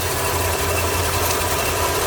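A 1981 GM engine idles after a Dual Jet carburetor overhaul, giving a steady, loud low rumble with an even pulse throughout and no voices.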